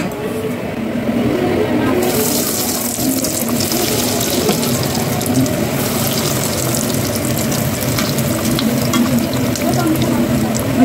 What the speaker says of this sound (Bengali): আমি দুটো করেই ভাজি, একসাথে দেবো না, হবে না।